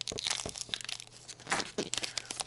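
Crinkly tearing and crumpling of a plastic wrapper close up, in irregular bursts of rustling and ripping.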